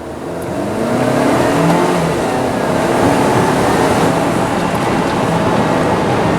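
A 2019 Volvo XC40 T5 AWD with a 247-horsepower four-cylinder accelerates in dynamic mode, the engine note rising and holding loud and close from inside the cabin, with a steady drone and road noise and no talking.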